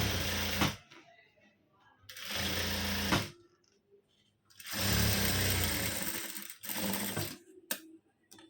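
A sewing machine stitches a silk fabric lining in several long runs, its fast loud whirring hum broken by short pauses, close by and with no talking over it.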